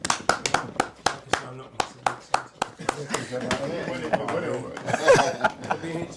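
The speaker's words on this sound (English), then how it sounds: "Let's clap for him." A community event audience claps for a scratchcard prize winner, a burst of quick, close hand claps that settles into people chuckling, laughing and talking over it.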